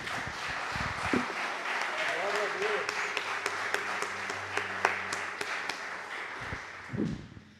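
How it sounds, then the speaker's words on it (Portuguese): A church congregation claps for about seven seconds during an evening worship service, steady dense applause filling the room, with a few louder individual claps and some voices murmuring underneath. "Vamos aplaudir ao Senhor."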